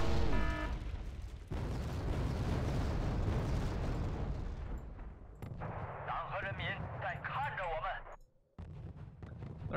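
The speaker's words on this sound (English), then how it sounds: "Oh, that's artillery." Artillery fire in Wargame: Red Dragon, a broad roaring rumble of explosions that fades into lighter crackling and game effects while someone talks over it.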